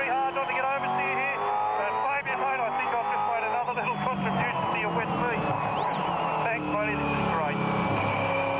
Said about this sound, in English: Then we nail it out of the pit lane, look, cold tyres, and then come up here into turn one.